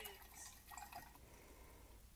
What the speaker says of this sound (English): I'm going to rinse off my brush